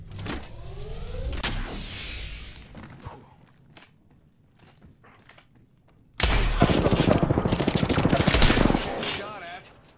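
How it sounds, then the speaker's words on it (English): Gunfire rings out in the Apex Legends video game: a few sharp shots and rattling bursts at first, a quieter lull, then a sudden dense, loud volley of rapid fire. "Shot at. Opening fire."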